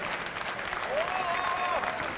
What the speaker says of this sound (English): Round of applause from everybody here in Fukuoka.